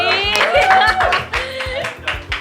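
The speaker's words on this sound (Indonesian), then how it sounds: "Tepuk tangan." An audience clapping hands at a graphic design talk, a short burst of quick, close claps that thins into a few scattered claps.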